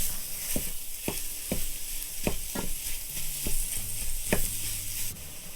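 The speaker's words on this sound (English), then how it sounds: "Let's get out our handy dandy meat masher because it works great on sausage" Sausage sizzles in a Ninja Foodi pot while a meat masher chops through it, sharp scraping clacks every half second or so over a steady frying hiss, no talk.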